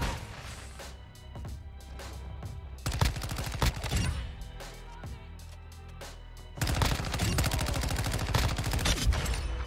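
In PlanetSide 2, the SL-14 rifle fires rapid bursts of loud, close gunshots in clusters separated by brief pauses, with dense stretches of continuous shooting and no speech.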